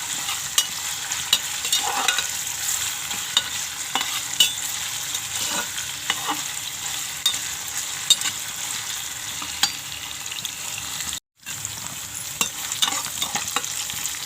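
Onion fries in oil for pea pulao with a continuous close sizzle, punctuated by scattered spatula taps and stirring scrapes, briefly cutting out for a moment before resuming.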